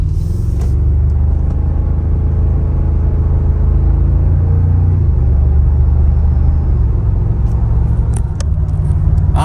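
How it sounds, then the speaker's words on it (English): A 2024 Toyota Tacoma pickup's artificial engine sound fills the cabin as a loud, steady low rumble with a slight rise and fall like gentle acceleration, continuous throughout with no talking. "this artificial sound that's pumped into the Tacoma"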